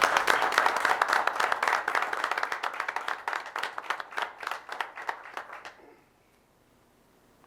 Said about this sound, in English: Please join me in giving Angie Jones a great big round of applause.